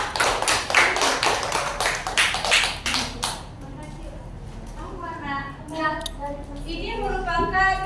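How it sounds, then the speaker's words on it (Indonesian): Brief burst of clapping from schoolchildren in a madrasah tsanawiyah classroom, applauding a pupil named Syifa during a guidance counseling lesson; the claps come in a quick close series over about three seconds, then fade as voices and chatter take over. "Boleh kasih tepuk tangan untuk Syifa?"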